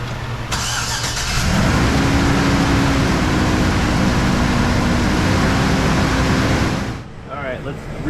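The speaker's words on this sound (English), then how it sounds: "Time to start the engine." A van's engine cranks and catches about half a second in, then runs loud and steady at a constant idle for several seconds before cutting off abruptly, with a voice briefly audible at the end.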